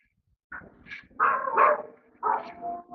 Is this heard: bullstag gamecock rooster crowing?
no